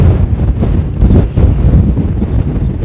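Strong wind buffets the microphone with heavy, rumbling gusts that swell and ease without a break.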